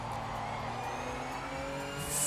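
Porsche RSR race car in Project Motor Racing, its engine droning with a steady harsh tonal whine, heard from a distance at moderate volume, with a brief swell of high-pitched noise near the end.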